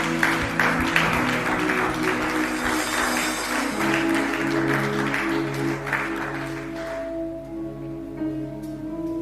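A church congregation claps and cheers for Jesus, sustained dense applause under a steady sung or played chord backdrop that thins out toward the end.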